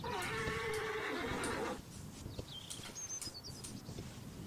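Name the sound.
horse neighing in video game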